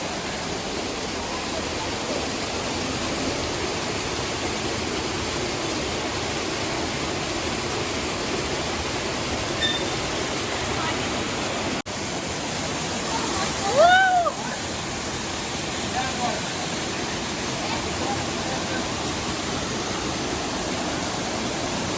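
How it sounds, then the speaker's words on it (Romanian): Waterfall in the Seven Ladders Canyon near Brasov roars as a loud, steady rush of falling water throughout, with a brief voice rising over it near the middle. "Ia uitați cum avem aici cascada."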